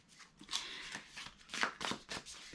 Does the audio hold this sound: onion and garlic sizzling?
no